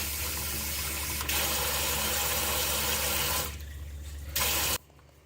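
Water running from a WEWE kitchen faucet with a pull-down sprayer into a sink, a steady rushing hiss that shifts in tone as the spray pattern changes, then cuts off near the end.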